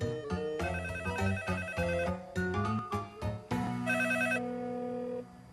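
A melodic ringtone plays loudly and continuously, a bright repeating electronic tune that fills the clip before trailing off near the end.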